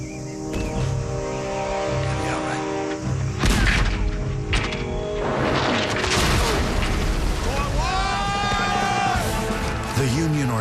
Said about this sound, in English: The Union artillery